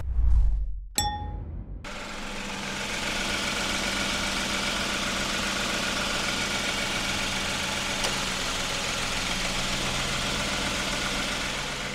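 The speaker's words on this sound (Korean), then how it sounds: "자, 엔진 소리 들어봤는데 어떠십니까?" A couple of metallic clangs ring out, then the 3.8-litre engine of a 2022 Kia K9 starts and settles into a steady, even idle that continues to the end.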